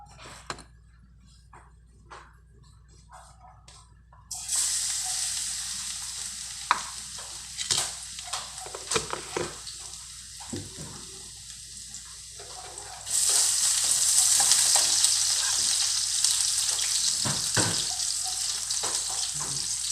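Ingredients sauté in a pan for breakfast, a loud steady sizzle breaking in suddenly and swelling louder later, with scraping stirs and clinks scattered through it.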